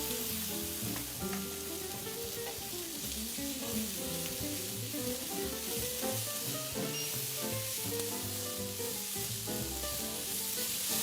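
Fennel sizzles and fries steadily in olive oil in a home kitchen pan, a dense, continuous crackle with small pops and occasional stirring, close and even throughout with no talking.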